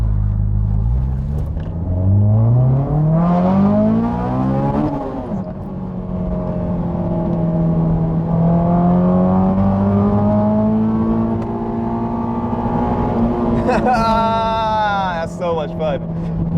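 A fast car closes in on a Honda S2000 with its engine roaring and rising steadily in pitch. The loud, sustained drone builds as it nears, and a voice speaks over the noise near the end.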